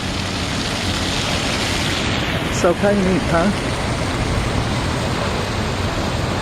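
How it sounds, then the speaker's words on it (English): Steady rushing splash of an outdoor water feature on a city waterfront, a constant broadband wash filling the whole clip, with a brief spoken remark over it midway. "they have also added this water feature"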